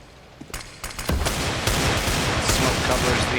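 Desert Eagle pistol fire in Counter-Strike on the map Cache, a burst of loud gunshots that builds into sustained, dense firing amid in-game commotion.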